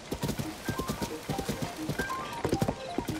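Horse hooves clip-clop in steady rhythmic beats while riding in Zelda: Tears of the Kingdom, close and clear, with a brief whinny in the mix.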